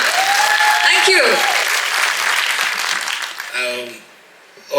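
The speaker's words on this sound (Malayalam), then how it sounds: "നല്ലൊരു കൈയടി എടുക്കാം" Audience applause at the success celebration of the film Mohiniyattam, a loud, dense burst of clapping that fills the room and then tapers off, with a brief voice rising near the end.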